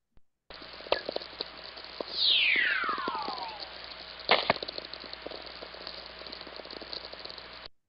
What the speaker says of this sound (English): this is an example of what a whistler sounds like